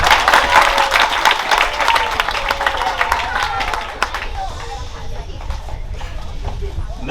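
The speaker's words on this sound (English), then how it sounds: "I'd like a round of applause for them." An outdoor crowd at an Arbor Day arboretum dedication claps for Addams Elementary third graders, brisk applause that fades into quieter background murmuring and occasional scattered claps.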